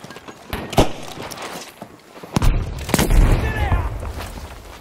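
A grenade blast in a German-language video game lands as a sudden broad boom with a rumbling low tail, followed by scattered softer game noises and bursts of talk.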